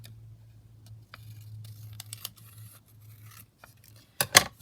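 Scissors cutting down paper for small handmade booklets and bags, a series of faint close snips and rustles with a louder, sharper cut near the end over a low background hum.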